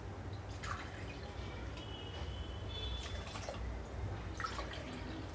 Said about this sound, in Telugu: ఇప్పుడు ఇందులోకి మిగిలినవి వాటర్ యాడ్ చేస్తున్నాను.